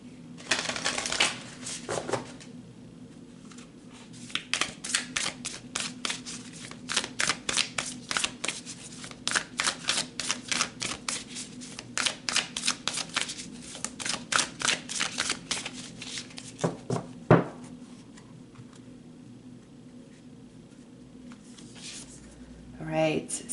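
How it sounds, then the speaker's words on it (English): Tarot cards being shuffled and pulled, a long run of quick papery riffles and flicks that come in dense bursts with short pauses between them, close and fairly loud, with a person talking over parts of it. "So let's pull some more cards."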